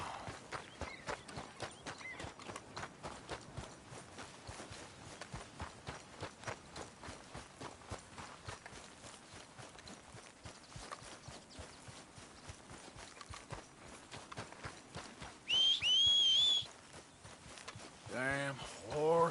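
A horse's hooves clip-clop steadily at a walk, rhythmic and fairly quiet, in the Red Dead Redemption 2 video game; near the end a louder burst of other game sounds cuts in.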